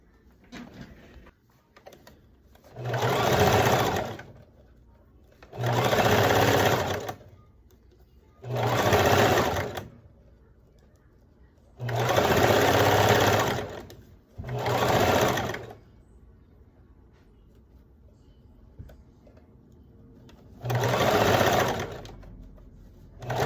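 A sewing machine stitches the seams of a beginner's backless sequin dress in six separate loud runs of rapid whirring, each a second or two long, with quiet gaps between them. The machine sounds close and no one speaks.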